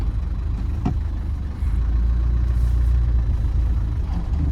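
A 1998 Land Rover Defender 110 with the 300Tdi diesel engine reverses, its steady low engine drone rising slightly in level partway through, close and continuous, with a brief sharp click early on.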